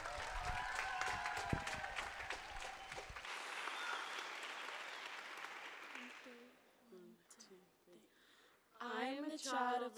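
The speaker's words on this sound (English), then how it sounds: "Please give them a huge round of applause." A school audience at Worawa Aboriginal College applauds a performance of the East Arnhem Land North Wind dance. Dense, steady clapping fills the first six seconds, then fades as a voice begins speaking or chanting alone.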